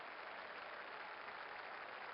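Crowd applause rises in an APBA baseball game, a soft, even wash of clapping that holds steady for a couple of seconds with no voices over it.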